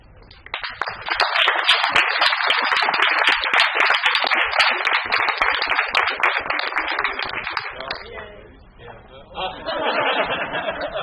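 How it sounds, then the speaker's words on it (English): Audience applause at a June 2022 school Board of Education meeting, a dense burst of clapping that runs for about seven seconds, then dies away as voices and murmuring chatter take over. "Colonial Nation applauds our homegrown Colonial, Betsy Fleetwood, for representing who we ar"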